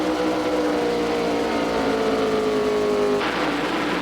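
Race car at New Hampshire International Speedway during the 1998 CMT Twin 100s, a loud, close engine roar holding a steady rising drone as it accelerates down the straightaway, then dropping abruptly in pitch near the end as it passes.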